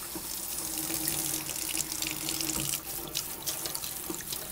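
Steady rush of tap water running into a sink or tub during a cat's bath, close and continuous for several seconds with a faint hum underneath and occasional splashes as the water hits the animal.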